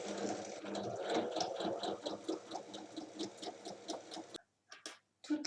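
A domestic sewing machine stitches a double-folded hem on a tote bag, a fast, steady mechanical chatter running for several seconds before stopping abruptly, then a couple of short restarts, close and moderately quiet.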